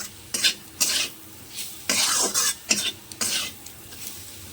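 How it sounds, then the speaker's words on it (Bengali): A spoon scrapes and stirs salt and turmeric into a mixture in a pan for poha, in short rhythmic bursts of clinking and scraping over a faint sizzle, close and fairly loud. "এবার সব একসঙ্গে ভালো করে মিশিয়ে নেব।"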